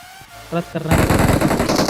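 Sustained rapid automatic M416 rifle fire in the video game PUBG bursts in loud and continuous after a short lead-in of quieter sounds.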